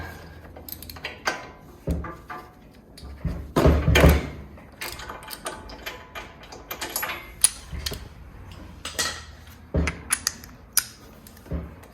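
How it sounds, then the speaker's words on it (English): A 13/16 socket wrench works loose the spark plug on a Cub Cadet Ultima ZT mower, giving scattered metallic clicks, knocks and ratcheting taps, close but fairly quiet, with irregular pauses between bursts. "I just need the socket to bust it loose a little bit"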